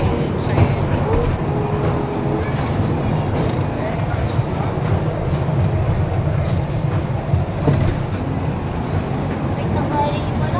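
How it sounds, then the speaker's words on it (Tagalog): A train rumbles past with a steady, loud low roar and some faint squeals from the rails, and people chat over the noise. "Train. Woot, woot."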